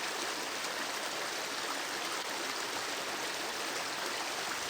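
The Espolón river flows past a riverbank in Chile's Patagonia, a steady broadband rushing of moving water that stays even and constant throughout, with no voices.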